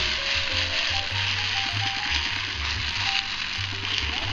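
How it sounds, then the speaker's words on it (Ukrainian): Potato pancake batter frying in a pan of well-heated oil, a steady broadband sizzle running throughout with faint clicking and low background hum; no talking. "Частину маси викладаємо на добре розігріту сковороду з олією."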